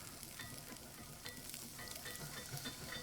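Poutine gravy stirred constantly in a hot pan makes a faint, steady frying hiss with light scraping and soft ticks, quiet and close, no voices.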